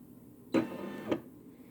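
A Brother SE600 embroidery machine whirs briefly, a short motorized hum lasting about half a second with a thump at the start and end, fairly quiet and close.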